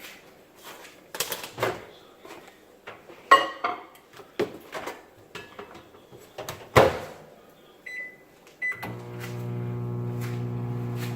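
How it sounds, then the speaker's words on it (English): A kitchen microwave oven softening a stick of butter: clattering dishes and the door opening and closing come first, then button beeps and a steady, loud, humming drone as the oven starts running. "so I'm gonna let the stick of butter in the microwave"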